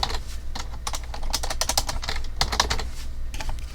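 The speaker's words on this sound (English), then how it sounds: "I was supposed to do a test where I was to type my name." Rapid typing on a computer keyboard, a dense run of light clicking keystrokes in quick irregular bursts, close by and alone without speech.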